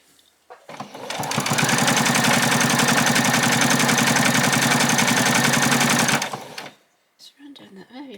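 A sewing machine stitches two apron pieces along the edge in one long, loud, close run of rapid, even needle chatter, followed by a few quieter handling sounds.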